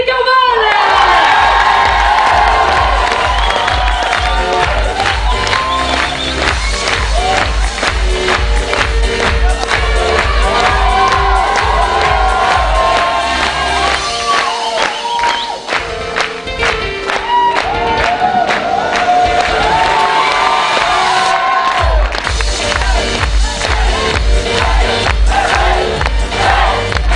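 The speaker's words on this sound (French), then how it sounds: "On peut l'applaudir bien fort, notre formateur, metteur en scène" Loud, sustained applause and cheering from an audience at a December theatre show in Millau, with shouts and whoops over rhythmic music, continuing without a break.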